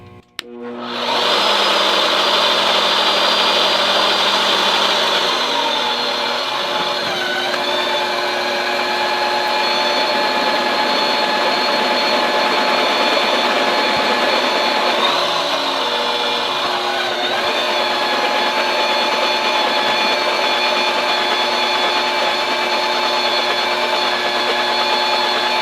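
A Vevor magnetic drill bores into 5/8-inch-thick steel with a 51/64 bit, giving a loud, steady motor whine and cutting grind close by. It runs alone with no pauses after a brief startup.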